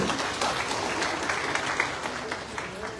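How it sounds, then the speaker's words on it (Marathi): A seated audience at a Shiv Sena event for senior citizens gives steady, moderately faint applause for Meenakshitai, a dense wash of clapping that holds for a few seconds with some voices in the background. "एकदा जोरदार टाळ्या मीनाक्षीताईंसाठी"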